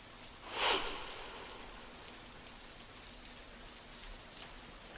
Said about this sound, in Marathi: आठवड्याच्या पहिल्याच दिवशी मुंबईकरांना मुसळधार पावसाचा सामना करावा लागतोय.